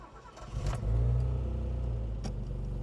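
A 1986 Alfa Romeo GTV6 engine cranks briefly, then fires and settles into a steady, close idle rumble.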